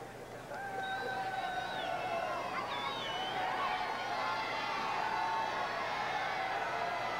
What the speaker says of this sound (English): Good crowd on hand in Omaha, Nebraska.